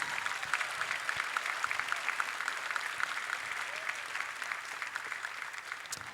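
A crowd at a school class night applauds the sophomore girls volleyball team, steady, dense clapping that fills the hall throughout, slightly distant, with a faint murmur beneath.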